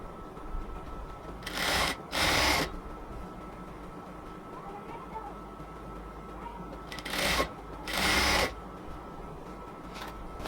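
A sewing machine stitches elastic into the waistband of cotton palazzo pants, running in two pairs of loud close bursts separated by stretches of quiet room noise.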